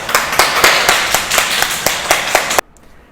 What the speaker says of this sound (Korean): 우리 모두 박수로 환영해 주시기 바랍니다.